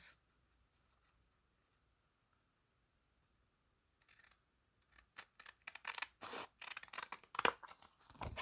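Scissors snip through glued cardstock inserts for a junk journal, a series of crisp, close cuts in quick succession after a few quiet seconds.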